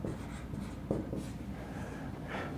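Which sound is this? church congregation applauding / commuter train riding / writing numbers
writing numbers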